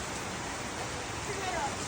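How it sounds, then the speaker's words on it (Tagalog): Steady hiss of outdoor rain falling on people bathing in it with a hose running, a dense even wash of drops throughout. "Tsaka ngayon ako nakita naliligo sa ulan, may hose."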